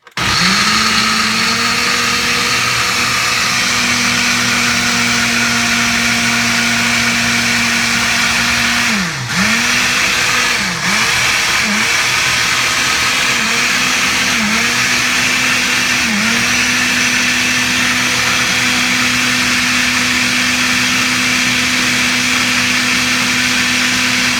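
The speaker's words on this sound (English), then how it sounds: "you're just going to blend this up. So this is going to be a little loud" A blender blending ranch salad dressing runs steadily and loudly for the whole stretch, its motor pitch dipping briefly a few times as the contents churn.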